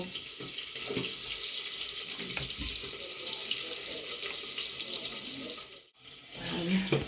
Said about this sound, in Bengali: এটাকে এখন জল দিয়ে মিক্স করব